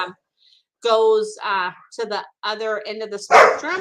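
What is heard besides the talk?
dogs barking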